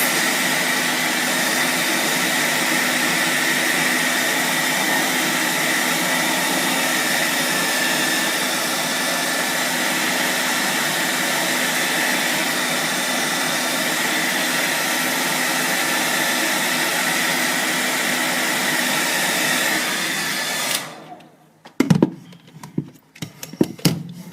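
Pro Blo hair dryer blowing steadily and loudly for about twenty seconds while hair is being curled, then cutting off, leaving a few handling clicks and thumps.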